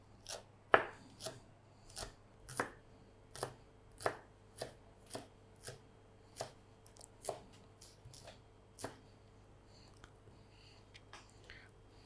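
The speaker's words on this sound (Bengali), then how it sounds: "এই ছোটো ছোটো পেঁয়াজগুলো সেটা কেটে নিব।" Small onions chopped with a knife on a board, a series of about a dozen crisp, separate cuts at an uneven, unhurried pace, fairly quiet against a low steady hum.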